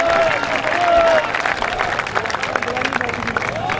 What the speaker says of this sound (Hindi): क्या साई में तो जोरदार ताली होनी चाहिए